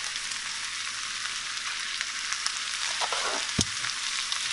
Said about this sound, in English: And then you just sit and stir for a little bit and get it kind of coated